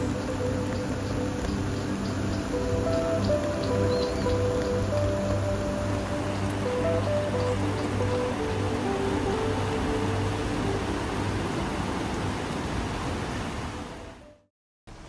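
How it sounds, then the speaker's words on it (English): Heavy rain pours steadily at Maracas Beach in Trinidad, a dense continuous hiss of drops on surfaces with possible surf underneath, loud and unbroken for nearly the whole stretch before cutting off abruptly at the end. "It started pouring rain while we were there, which was quite magical."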